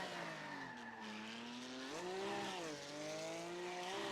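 A race car in the iRacing simulator, its engine holding a steady droning whine that dips and climbs with gear and throttle changes, with tires not yet changed, loud and continuous with no talk.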